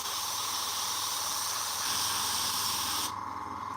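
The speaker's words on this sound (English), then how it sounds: "So I don't care when I'm spraying directly on the pipe because I will repaint it." An airbrush sprays paint onto a Warhammer miniature with a steady, close airy hiss that holds evenly for about three seconds, then abruptly softens as the trigger eases off.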